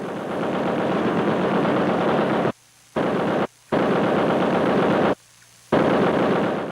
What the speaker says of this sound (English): tracks mounted several weapons, including at least one 50 caliber machine gun, a weapon too heavy to carry on foot.